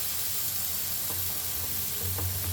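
Brinjal slices sizzle steadily in a frying pan, a continuous close hiss of oil with a few faint taps and scrapes as the pieces are turned.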